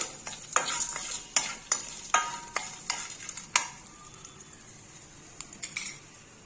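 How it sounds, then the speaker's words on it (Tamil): Soft sizzling as garlic sautés in sesame oil in a pan while a spoon scrapes and stirs in quick, uneven strokes, then quiets down toward the end. "வதங்கட்டும் இந்த பூண்டு வந்து நல்லா வெந்து வரணும்"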